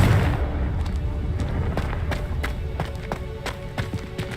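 A Confringo fire spell explodes in Hogwarts Legacy, followed by a run of sharp crackling bursts and taps over a steady rumbling game background.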